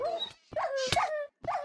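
A dog in a dungeon simulator video game gives several short whining yips and barks in separate bursts, loud and close, with no talk over them.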